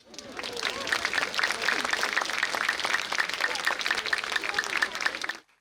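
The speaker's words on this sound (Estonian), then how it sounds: "Nii et aplaus!" An audience at a town's 100th anniversary concert with its orchestra and soloists breaks into lively applause that swells quickly, holds as a dense crackle of hands with some rhythmic claps and voices mixed in, then stops abruptly.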